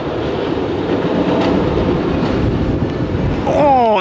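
A roller coaster train rumbles past with a steady rattling clatter, loud and near, ending in a rising metallic whine, at Alton Towers.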